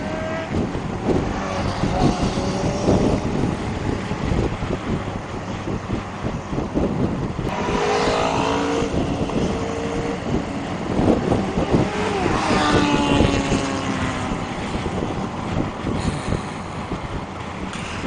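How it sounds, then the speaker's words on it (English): Sports motorbikes ride past on an Easter Sunday ride, their engines swelling and fading in a couple of quick passes over heavy wind buffeting on the microphone. "Let all these fast boys through. They're sports bikes."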